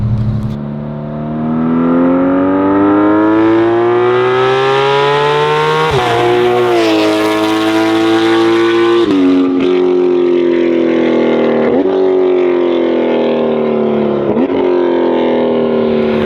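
A high-revving Porsche 911 GT3 (992) engine passes close by on a long straight, pitch climbing through gears with sharp shifts, loud and continuous throughout.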